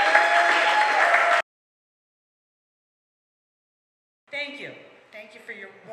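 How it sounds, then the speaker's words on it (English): Audience applause at a comedy show, a dense wash of clapping for about a second and a half before cutting to silence, then a voice speaking near the end. "Thank you for your warm applause and your warm welcome"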